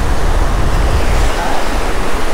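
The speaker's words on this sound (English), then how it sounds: "That wind is whipping." Strong wind on a beach during surf fishing makes a loud, constant buffeting roar that blends with crashing surf, with no voices.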